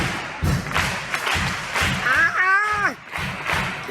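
Three hand claps at a Middle Passage remembrance gathering in Charleston, sharp and close among a group's rhythmic clapping, with a voice singing or calling out over them.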